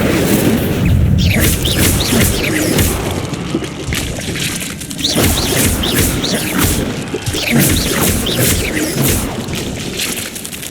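Spell combat in Hogwarts Legacy with an Incendio fire spell among the effects: repeated loud booming, crashing impacts and whooshes over ten seconds of dense game action, with a voice briefly heard under the noise.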